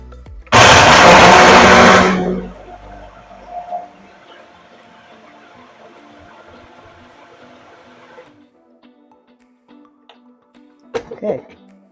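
A kitchen blender whips up a thick protein-powder smoothie in one loud, harsh burst of about two seconds, then cuts off to a quiet room with a faint hum and small clatters.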